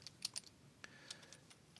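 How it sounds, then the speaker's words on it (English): Faint, close keystrokes on a computer keyboard come in a quick cluster, then several scattered single taps, as someone types a search. "So I'm going to type in here"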